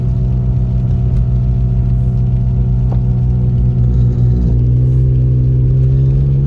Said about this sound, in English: Sorry, that sound was my air compressor.